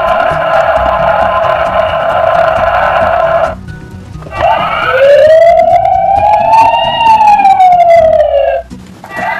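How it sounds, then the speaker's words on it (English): A loud electronic toy police car siren blares, first a steady buzzing tone, then after a short pause a rising and falling wail, close to the listener. "Here comes the police car!"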